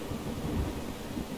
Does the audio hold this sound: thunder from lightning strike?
yes